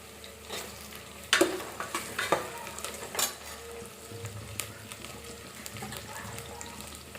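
Potato pieces dropped into a hot pan for mint pulao, giving a soft sizzle and frying crackle with a few sharp clatters and stirring knocks early on, close by with no talk.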